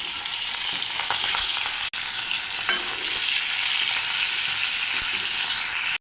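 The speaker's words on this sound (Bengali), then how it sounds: "এখন মাছের মাথাগুলো আমি ভেজে নেব" Fish heads coated in salt and turmeric fry in hot mustard oil, giving a loud, steady, close sizzle with a brief break partway through.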